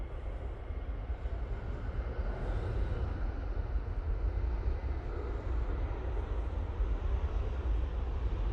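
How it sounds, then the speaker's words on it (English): Helicopter flying near Manchester Airport, unseen, giving a steady, continuous low rumble and whir that holds level throughout, moderately distant, with no talk. "I can hear that helicopter"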